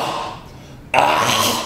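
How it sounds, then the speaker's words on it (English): A sudden single cough or throat clear from a man, close and fairly loud, after a quiet moment. "Coughing?"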